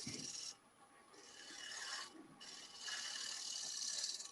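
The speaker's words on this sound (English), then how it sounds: "Now I'm just using almost a scraping type cut." Hand scraping across a metal flat plate with a scraping-type cut, heard as long, faint rasping strokes separated by short pauses, close and without talk.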